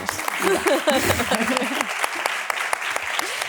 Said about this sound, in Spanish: Un aplauso para Miranda.